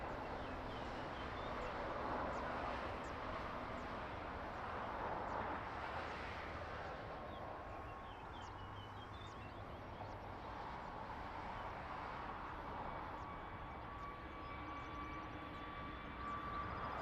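A fixed-wing airplane on the runway at Lisbon Airport during takeoff, a steady distant engine roar that holds at an even level throughout, with no voices.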